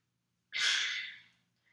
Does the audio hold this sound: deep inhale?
yes